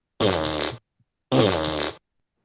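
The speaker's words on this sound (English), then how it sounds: "Where my farts at? You haven't been doing the farts." A fart sound effect plays twice, two loud, buzzy, evenly matched bursts separated by a short silence, with no other sound around them.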